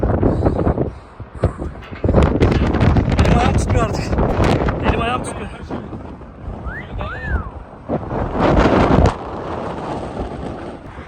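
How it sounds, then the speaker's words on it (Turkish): Strong wind buffets the microphone in loud, roaring gusts while someone speaks over it at night near a television tower, rising and easing throughout. "çok fena rüzgar vuruyor"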